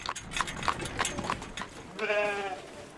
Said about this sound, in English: Emil Imre Sobo raises his 18 cows and 300 sheep right here in his backyard